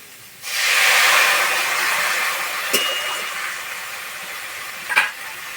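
Shredded cabbage frying in a pan bursts into a loud hiss of steam as a little water goes in, then settles into a softer sizzle with a couple of sharp stirring scrapes.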